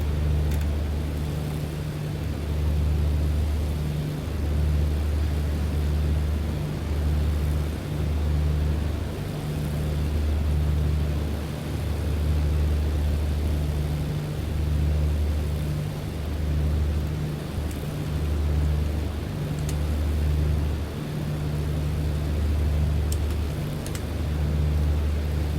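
Inside a Britten-Norman Islander propeller plane flying toward St Mary's on the Isles of Scilly, a steady loud engine drone hums on low with a slow, pulsing beat, and no one speaks.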